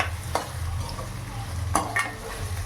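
Onions frying and being stirred in a pan while cooking chicken gravy, with a steady sizzle and a few sharp stirring scrapes, close and fairly loud.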